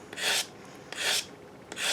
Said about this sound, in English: The nice thing about sanding blocks, if you use them right, see how it's making a nice smooth straight line?